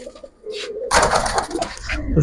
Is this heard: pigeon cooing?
yes